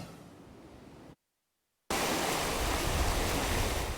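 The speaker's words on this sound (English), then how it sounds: "We're standing on the edge of the Arkansas River in Canyon City." The Arkansas River in Cañon City, Colorado, rushes steadily, broadband and constant, cut by a brief silence before returning louder and fuller, close by.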